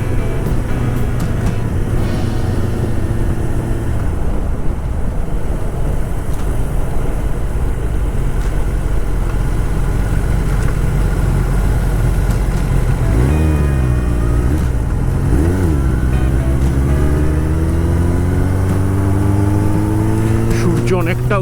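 Superbikes including a Kawasaki ZX10R riding on an expressway in Kolkata, a loud continuous engine drone with heavy wind rush, rising revs toward the end as the engine climbs in pitch, recorded close from the rider's position.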